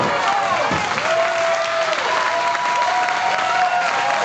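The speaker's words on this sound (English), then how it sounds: "Listen to this raucous crowd." A raucous wrestling crowd at a New Texas Pro championship match roars in a dense, steady wall of cheering and applause, with voices whooping and rising tones swelling throughout, close and loud.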